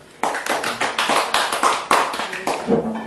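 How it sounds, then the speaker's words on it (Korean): Applause from a small audience closes a book-launch author lecture held over video link, a brief burst of overlapping hand claps that starts abruptly and continues steadily, with a voice briefly heard near the end. "모두 수고하셨고 박수로 행사를 마무리하도록 하겠습니다"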